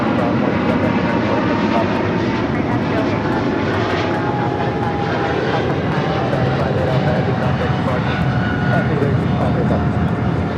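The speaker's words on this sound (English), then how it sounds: "rolling down 25 right is the big Q, Qatar Cargo, flight" A Qatar Cargo jet rolls down runway 25 right at LAX for takeoff, its engines giving a loud, steady roar throughout with someone talking over it.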